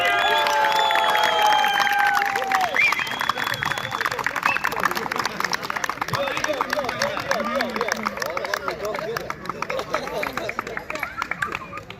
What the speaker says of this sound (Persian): تیم دیوالک ها تشویقشان کنید